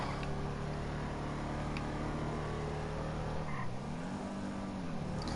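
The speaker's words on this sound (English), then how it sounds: "The engine note's a bit quieter than the original Dominator" Vapid Dominator GTX muscle car in GTA 5 holding a steady, fairly quiet engine drone, its pitch dipping and rising again partway through as the revs change, with no voices over it.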